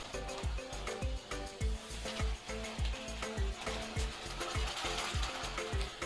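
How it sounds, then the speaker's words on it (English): Shrimp with lemon juice being stirred in a frying pan: a steady, close sizzle with a quick series of clicking and scraping strokes running through it. "Give it a little stir."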